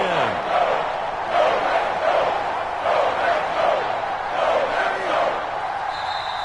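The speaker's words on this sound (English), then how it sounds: "Crowd getting in it a bit already." Stadium crowd noise in a PS4 football video game swells and surges in waves while a commentator talks over it, with a brief tonal cue near the end.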